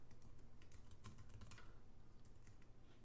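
Quiet, steady keystrokes on a computer keyboard as a password is entered, a close run of soft clicks with no voices.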